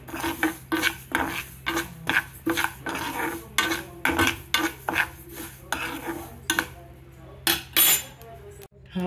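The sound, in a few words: mustard seeds being dry-roasted and stirred in a pan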